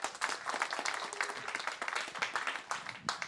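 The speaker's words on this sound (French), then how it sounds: "Lucas, on peut applaudir Lucas ce soir?" An audience applauds Lucas at a gospel evening of miracles and healing, lively, uneven clapping at moderate distance with individual claps standing out in a fluttering rhythm.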